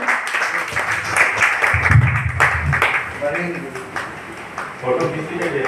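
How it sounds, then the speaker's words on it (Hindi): An audience at a ceremony honouring a senior writer applauds a poet, steady clapping at moderate level mixed with voices and background murmur, with speech emerging more clearly toward the end. "उनकी इस भावना का हम लोग सम्मान करते हुए तालियां बजाते हैं"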